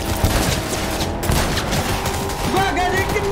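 Gunfire in Cyberpunk 2077 crackles in dense, rapid bursts and booms with a steady loud battle din throughout, while a player talks over it.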